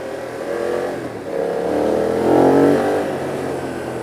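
A BMW F 900 R motorcycle engine revs in a gruff, grunty burst, swelling to a peak near the middle before easing off, heard up close with steady road rumble and no talking.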